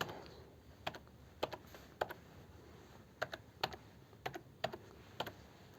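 A computer keyboard is typed on in short, irregular bursts of quiet, close keystrokes against a hushed room, with no talking.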